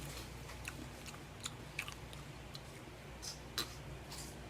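Quiet, sporadic crunchy bites and chewing of fried chicken eaten with wasabi, with soft, irregular clicks close to the mic and no talking.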